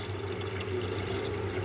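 Water used to wash lentils runs and splashes steadily in a home kitchen, a continuous close liquid wash with a low hum beneath and no speech.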